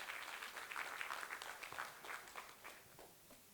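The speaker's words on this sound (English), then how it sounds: "Let's give her a round of applause." An audience claps in a round of applause at a community partnerships learning session, fairly faint and steady for a few seconds with a dense, scattered clapping texture.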